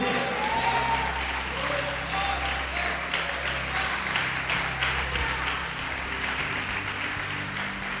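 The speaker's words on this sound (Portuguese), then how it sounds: "Pode aplaudir e glorificar o Senhor." Church congregation applauding to glorify the Lord, steady crowd clapping mixed with a murmur of voices and some talking underneath, moderately loud throughout.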